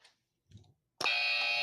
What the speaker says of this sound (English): I got to use my buzzer.